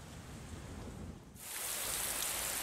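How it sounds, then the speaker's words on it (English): Rain falls outside on a rainy night in Persona 4 Golden, a soft, low rushing hiss that abruptly swells into a brighter, louder downpour partway through. "You can hear it raining outside."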